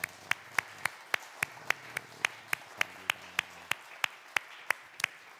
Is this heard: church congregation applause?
yes